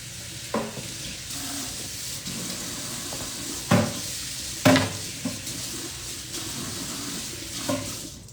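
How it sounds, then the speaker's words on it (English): Tap water runs steadily into a kitchen sink while food is washed and rinsed underneath, with a few louder splashes and clunks against the basin. "let me wash and rinse this real quick"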